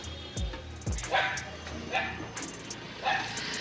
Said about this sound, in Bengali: কুকুর খুব ঘেউ ঘেউ করছে